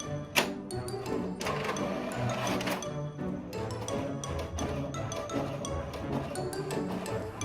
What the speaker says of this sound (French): Elle imprime toute seule maintenant.